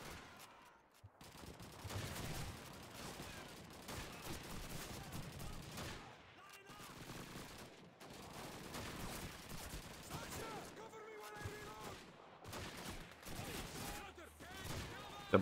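Rapid bursts of gunfire from the World War II shooter Call of Duty 2, set in the Moscow campaign, crackle continuously through the clip alongside other battle noise, with a player's voice talking over parts of it.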